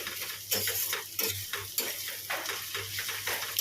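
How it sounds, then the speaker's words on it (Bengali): Onions fry and sizzle in a pan while a utensil stirs them, giving repeated scraping strokes over a steady hiss. The sound is close and clear, with no voices. "লাল লাল করে ভাজা হোক"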